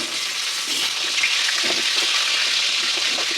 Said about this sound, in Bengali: এবার আমি মাছগুলো উল্টে দেবো